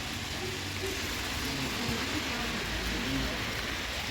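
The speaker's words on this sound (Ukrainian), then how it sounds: "Так от виглядає погода сьогодні у Німеччині, дощик" Light rain falls steadily outdoors in Germany, a soft continuous hiss of drops on surfaces that stays even throughout with no clear peaks, and no one speaking.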